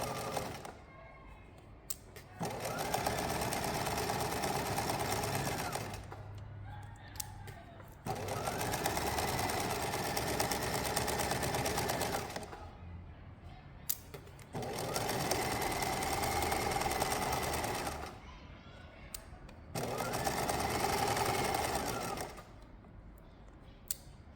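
Sewing machine stitches a backpack seam forward and back in four bursts of steady, rapid mechanical whirring, each several seconds long, separated by quieter pauses with small clicks and handling, close by.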